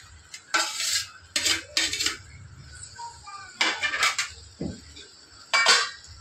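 Fried mushrooms are tipped into a pan of cooked-down spices and stirred, with several sharp metallic clatters of utensil on pan in short bursts and quiet gaps between, close and moderately loud.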